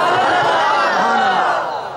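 Crowd of listeners at a religious bayan by Khalid Sultan Bahoo shouting slogans in unison, a loud dense roar of many voices that holds steady and then begins to fade near the end.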